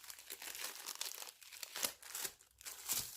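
Golden rice paper crinkles and rustles as it is handled, a run of close, crisp crumpling bursts with brief pauses in between.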